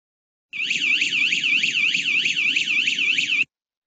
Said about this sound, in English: camera can automatically trigger alarm and give audio and vision